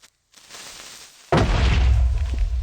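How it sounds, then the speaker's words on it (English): A Minecraft creeper explosion blocked by a player's shield in early-game hardcore play, a sudden loud boom after a brief quiet lead-in, followed by a sustained rumbling roar that fills the rest of the moment. "I hear a creeper about to explode behind me"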